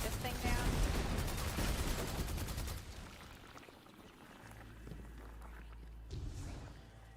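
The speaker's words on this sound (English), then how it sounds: "I'll shoot this thing down." Rapid gunfire in Destiny 2 as a player shoots down a target, a dense burst of shots for the first few seconds, then quieter game ambience with low rumbling.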